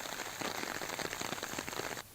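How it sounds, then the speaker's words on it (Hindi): Steady heavy rain pours down in Baran district, Rajasthan, a dense, even hiss of drops hitting surfaces that cuts off abruptly near the end, with no talking. "बारां जिले के बीते 3 दिनों से लगातार बारिश जारी है।"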